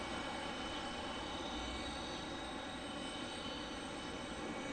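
Steady broadband roar of a Spirit Airlines Airbus A320's engines at Detroit Metro Wayne airport, a continuous even rumble with no break across the whole stretch.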